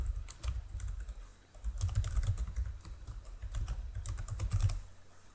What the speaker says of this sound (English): So let's type in an email address.